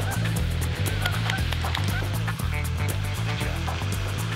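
Geese honk repeatedly on water while a herding dog drives the flock, a dense, fairly loud chorus of overlapping calls in a steady pulsing rhythm.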